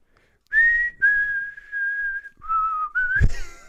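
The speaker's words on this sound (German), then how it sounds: "und dann finde ich dieses Pfeifen im Refrain einfach super lustig" A single person whistles the chorus melody of a song, clear close tones in several sustained phrases with short breaks, ending on a brief upward slide and a bump.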